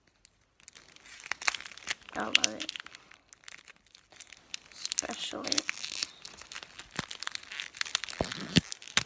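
Strawberry chewing gum wrapper crinkling and tearing at night, close and in repeated bursts, with a person talking over parts of it.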